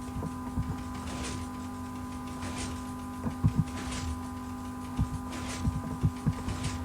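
Minecraft redstone clock built from sticky pistons: a steady electronic hum runs throughout, with brief clacking thumps of piston movement recurring in small clusters toward the second half, fairly close and alone.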